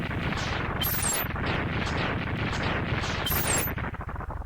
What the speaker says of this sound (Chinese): 爆炸要炸半天啊！